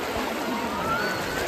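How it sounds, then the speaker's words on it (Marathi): Fast-flowing stream water in monsoon flood at Sanjay Gandhi National Park in Mumbai, a steady broadband rushing wash throughout with no pauses and no talk. "बघा किती पाणी वाहत आहे."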